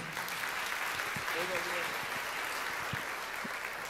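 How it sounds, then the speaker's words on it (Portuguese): Church congregation applauding during a youth worship service, a steady, even wash of clapping at moderate distance with voices faintly heard beneath it. "Vamos aplaudir ao Senhor"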